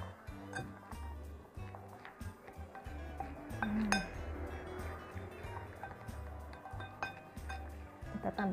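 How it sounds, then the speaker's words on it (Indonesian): A spoon clinks and scrapes against a bowl while flour is stirred for homemade playdough, giving light irregular taps and rattles close by with no talking. "Kita aduk-aduk sampai rata."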